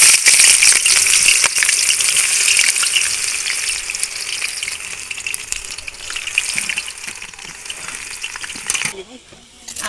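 Food sizzles and crackles steadily in a hot pan, loud and close, with occasional stirring rattles before the frying fades near the end.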